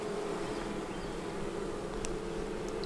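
Honey bees buzz steadily and close at an open beehive in March, a dense continuous drone with no speech over it.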